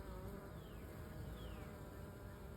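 A honey bee fans its wings at the entrance of a bucket swarm trap, making a steady, close insect buzz that holds evenly throughout with no voices.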